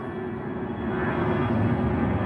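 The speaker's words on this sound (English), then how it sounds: "So with this last airplane," An airplane passes overhead near a river, a steady broad engine roar that swells slightly louder partway through and holds, with no talk.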